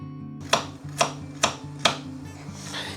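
Four sharp knife chops through carrots on a cutting board, evenly spaced about half a second apart, close and crisp, over a steady low kitchen hum from a pot heating on a gas stove.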